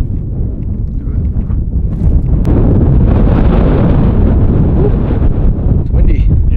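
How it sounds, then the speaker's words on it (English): Strong wind on Red Cone, Colorado buffets the microphone with a deep, rumbling roar that grows louder and more constant midway through. "it's quite windy"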